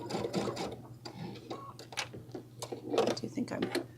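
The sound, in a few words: sewing machine stitching folded fabric for tote bag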